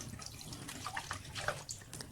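Tap water runs and splashes into a sink while crab is washed by hand, a faint, steady trickle with irregular drips and splatters, no talk.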